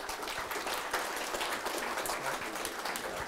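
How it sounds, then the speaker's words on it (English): Audience applause for a guest speaker at a ReactJS meetup, a steady wash of many hands clapping at moderate level throughout, with no voices over it. "So please give him a round of applause."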